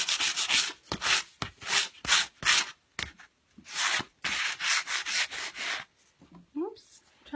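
Sandpaper rubs against a painted wooden piece, distressing Everlong paint in Earl Grey. Repeated close, loud scratchy strokes come in short bursts with brief pauses between them.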